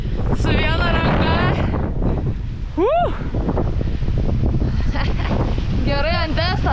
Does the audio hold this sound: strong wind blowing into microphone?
yes